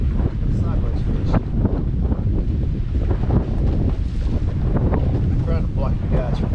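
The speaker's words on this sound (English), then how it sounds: "I'm trying to block the guys from the wind." Gusty wind buffets the microphone out on the water on a windy day, a rough, continuous roar with people talking over it.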